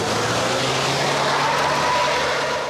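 A truck stuck on a muddy, impassable dirt track, its engine revving hard and steadily with a loud, continuous roar throughout, no voices.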